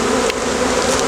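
Honey bees buzz densely and continuously at an opened hive during a spring split, a close, loud, steady drone with no voices.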